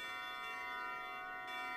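A bell rings in the video game Klonoa: Phantasy Reverie Series 2, holding a bright, sustained metallic tone with layered chime overtones for under two seconds.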